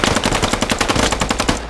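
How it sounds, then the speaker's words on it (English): Rapid automatic gunfire in a military squad-based shooter game, loud and close, with a steady stream of sharp bursts filling the whole clip. "That's where I'm hearing gunshots."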